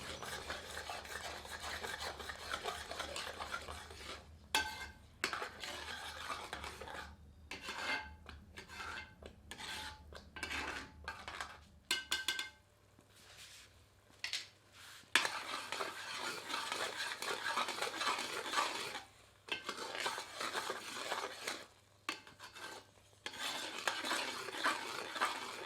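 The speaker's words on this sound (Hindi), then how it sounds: "मिलाकर पुनः इसे 10 से 15 मिनट मध्यम आंच पर पकाते हैं।" Carrot halwa cooking in a pan over medium heat is stirred with a spoon, giving repeated scraping and rubbing strokes in uneven bursts with brief pauses and a faint sizzle.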